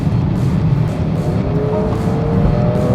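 Muted, grunting exhaust note from a 2024 BMW X5 40i's B58 engine through a quad-tipped exhaust, a short continuous rumble under acceleration with no talk.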